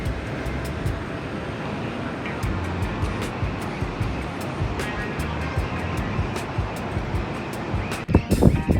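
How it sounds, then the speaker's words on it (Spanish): Sea waves breaking on the coast near El Cóndor, Argentina, a continuous loud wash of surf with wind buffeting the microphone and a sharper gust near the end. "el sonido del mar y de cientos de aves, entre gaviotas y loros"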